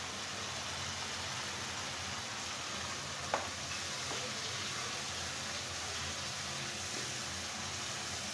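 Spices frying with star fruit in a pan, a faint, steady hiss of sizzling oil that continues evenly throughout, with one small clink partway through and no talking.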